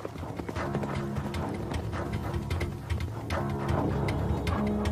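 Horses of an ancient Roman courier relay clip-clop at a fast, steady rhythm, with dense hoofbeats continuing throughout over a low background rumble.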